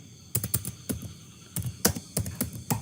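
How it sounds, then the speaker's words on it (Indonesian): Keys on a computer keyboard are tapped in short irregular bursts while typing a table of contents in Microsoft Word, crisp and close over a low steady hum. "Kemudian saya tekan Enter di keyboard"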